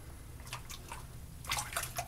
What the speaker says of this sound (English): I hear it bubbling.